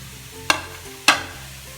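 Cabbage and grated coconut stir-fried in a pan for a Nagercoil-style cabbage thoran: two distinct spatula scrapes cut through a soft, steady sizzle.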